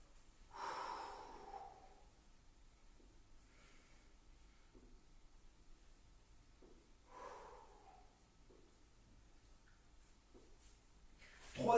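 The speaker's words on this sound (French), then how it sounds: "on pense à bien souffler, à bien respirer" Heavy breathing during a fitness workout: a few faint, forceful exhales and snort-like breaths spaced several seconds apart, close but quiet, over near silence.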